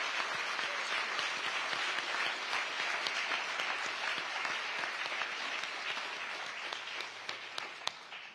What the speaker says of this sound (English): Join me in applauding them for their wonderful work.